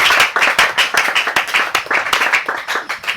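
Church congregation at a Sunday worship service clapping together in a quick, steady rhythm, loud and close, with many hands blending into a lively beat.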